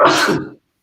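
A single short sneeze bursts out close by during a real estate investing roundtable discussion, loud and sudden, then cuts to silence.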